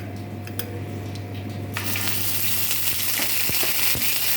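Ginger paste drops into hot frying oil for Bengali shukto and bursts into a loud, steady close sizzle that holds to the end, with a few sharp spits popping through.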